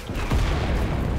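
Gunfire from a K98 rifle in the World War II shooter Enlisted, a loud, close shot with a booming tail that fills the whole moment.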